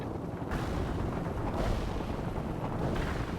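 Artillery strike explosions in the World in Conflict video game, a dense rumbling barrage of blasts with a few sharper bursts standing out, loud and continuous with no voices.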